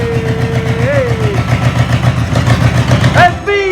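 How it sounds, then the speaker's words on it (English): A classic Alfa Romeo Spider engine under restoration runs steadily with a low rhythmic idle throughout, while a voice calls out briefly near the end. "right here now you will have a video of the engine turning"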